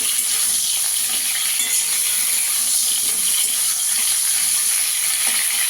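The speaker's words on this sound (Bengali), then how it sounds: "কপিটাকে একটু হালকা করে ভেজে নেব।" Cauliflower pieces frying lightly in oil in a pan for a phool kopi korma, giving a steady, bright hiss and crackle that stays even and close throughout.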